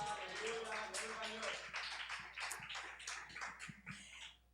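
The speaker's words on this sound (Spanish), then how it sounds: "Denle un aplauso al Señor." A church congregation claps in praise, a quick burst of scattered handclaps and taps at moderate distance, fairly faint, with voices mixed in.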